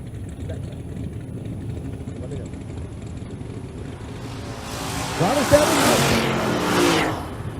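Drag racing cars, with a Chevrolet Silverado in the right lane, idle at first, then rise into a louder engine roar that peaks and fades during a pass. A commentator talks over the top.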